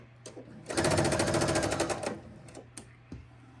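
A sewing machine chain-piecing quilt pieces runs a rapid stitching burst of about a second and a half, close and loud, followed by a few small clicks.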